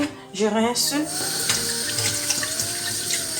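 Utensils, a sieve and a funnel are rinsed under a running tap with plain water after making natural drinks. A steady splashing water stream runs throughout, with a few clinks at the start and a voice briefly audible.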